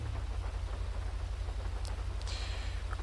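Steady rain in FiveM, the GTA V multiplayer mod, a constant broadband hiss with a low rumble beneath, continuous and even throughout with a few faint high blips late on.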